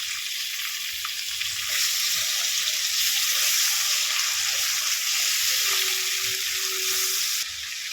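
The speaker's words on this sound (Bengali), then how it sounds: "ভালো করে এটাকে ভেজে নেব। টমেটো দিয়ে দেবো, লবণ দিয়ে দেবো উপর থেকে।" Soybean chunks, potato and tomato with ginger, garlic and salt fry in a pan, a loud, continuous hissing sizzle that holds steady throughout, alone and close.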